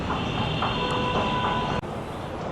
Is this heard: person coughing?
no